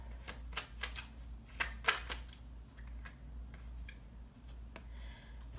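Tarot cards shuffled by hand in a series of crisp riffling bursts, clustered early then sparser, close and quiet over a steady low hum, with no talking.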